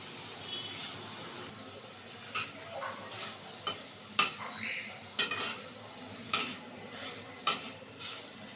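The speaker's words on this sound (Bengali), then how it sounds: "চিকেনগুলো একটু ভেজে নেব" Chicken pieces frying in a pan for chicken soup, a soft steady sizzle broken by sharp clinks and scrapes of a utensil against the pan at irregular intervals.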